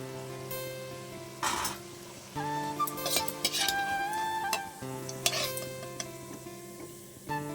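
Coconut fritters frying in hot oil, a soft sizzle beneath repeated clinks and scrapes of a metal utensil against the pan, with several sharp taps mixed in.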